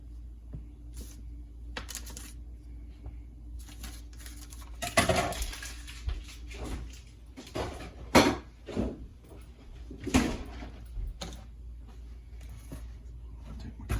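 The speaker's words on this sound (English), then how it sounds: "Dough cutter, pastry cutter, incorporate that butter in." A pastry cutter working pats of butter into dough in a bowl, giving a few soft, irregular thuds and clinks spread through otherwise quiet stretches.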